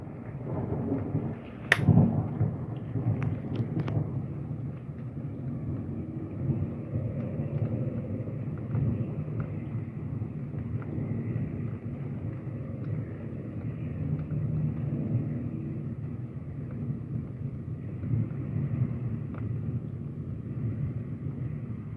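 Thunder from a severe thunderstorm with heavy rainfall and hail, one sharp crack early on, then a long low rumble rolling on under the steady hiss of rain, with no talking.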